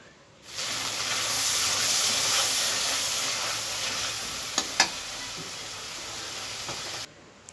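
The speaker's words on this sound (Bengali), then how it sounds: "তো মশলাটা ভালো করে কষিয়ে নিচ্ছি" Spice paste frying and being stirred in a pan for a gourd and fish curry, giving a loud continuous sizzle and hiss close by, with a couple of sharp utensil clicks partway through, no talk.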